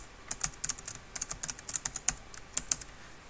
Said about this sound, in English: click with your mouse and type in your titles